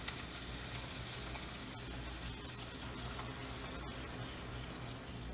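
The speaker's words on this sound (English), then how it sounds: "Now I am ready to pour on the sauce that we made." Honey lemon garlic sauce is poured into a hot pan of frying salmon fillets, producing a continuous, fairly quiet sizzling hiss that holds steady throughout, with no talking.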